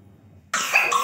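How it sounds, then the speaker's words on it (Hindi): A sick child gives one close, sharp cough that bursts out abruptly after near silence and rings on briefly. "ये देखिए खांस रही है मेरी"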